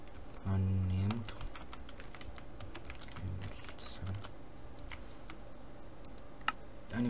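Someone typing a command on a computer keyboard while setting up a Minecraft server world, with quick irregular key clicks, fairly close, over a steady background hum and a brief tone near the start.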